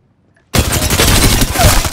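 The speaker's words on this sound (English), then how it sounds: "Getting shot at." Apex Legends gunfire erupts abruptly after a half-second of near silence, a dense, loud, sustained burst of rapid shots filling the rest of the clip with no voices.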